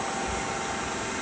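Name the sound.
3-phase disk sander running on a VFD, rubbing noise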